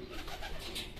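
A racing pigeon coos softly on arrival at its loft during a derby, brief low calls close by against faint outdoor ambience.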